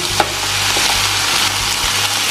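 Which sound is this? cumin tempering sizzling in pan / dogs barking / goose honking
cumin tempering sizzling in pan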